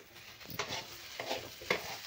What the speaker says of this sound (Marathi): ह्याला पण आपल्याला चांगलं परतून घ्यायचं आहे.